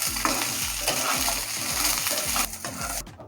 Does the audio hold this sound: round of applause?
no